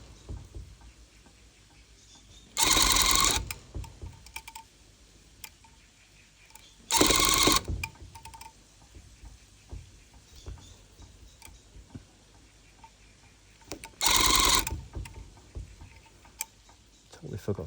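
A sewing machine stitches in three short, loud bursts of a second or less, with quiet gaps and faint handling noise between runs.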